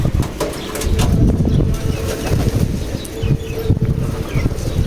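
Pigeons kept as a hobby flutter and flap their wings as they take off near a garden with guava trees, with a dense, busy burst of wingbeats and soft cooing at close range over light wind.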